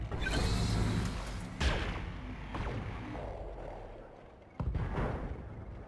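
Mech weapons in the Battletech video game fire in heavy booming volleys, with a loud burst near the start and another sharp salvo later over a rumbling low-end roar.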